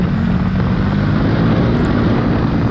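A Ducati Supersport S sport motorcycle roars steadily at speed, a loud, dense engine and wind rush filling the whole moment without a break.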